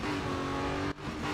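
A race car in the Real Racing 3 video game drives with a steady engine drone, briefly dipping near the end before picking back up, with no voices over it.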